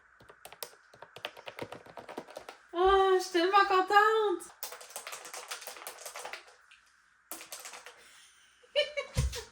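A brand-new computer keyboard being tried out: bursts of quick, crisp clicking keystrokes, close and fairly loud, broken up by a woman's excited, high-pitched speech.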